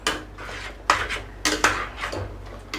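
A spoon scrapes and clinks against a pot as mutton curry with tomato paste is stirred, several distinct metallic knocks over soft scraping, close and moderately loud with no talking.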